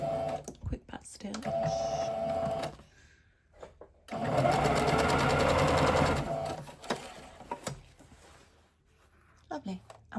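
Sewing machine running in bursts for a quick back stitch on Sew House 7 Free Range Slacks trousers, with short forward and reverse runs separated by pauses and a voice talking in between.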